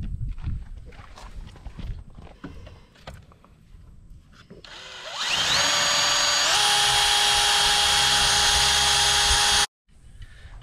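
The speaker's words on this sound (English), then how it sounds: "the first thing I'm going to do is just drill a pilot hole in this first bunk" A power drill bores a pilot hole in a wooden trailer bunk, its motor whining up and holding a loud, steady pitch for several seconds before cutting off abruptly, after quieter handling noises.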